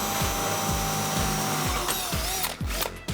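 Power drill boring through a pre-lined-up hole, a loud steady whine with rhythmic load surges about every half second that bog down as the bit bites, then easing off near the end.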